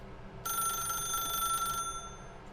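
A telephone in The Stanley Parable rings with a steady, bright electronic trill for over a second, loud and close, then stops and leaves a faint ambient hum.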